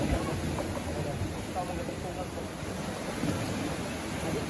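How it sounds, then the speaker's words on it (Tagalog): Large sea waves surging around a small boat, a steady rough wash of surf and wind noise throughout, with voices faintly present. "so sobrang laki ng alon ngayon"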